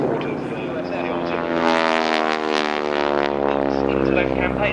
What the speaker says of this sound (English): It started out with 3 examples of the Stinson L5 Sentinel.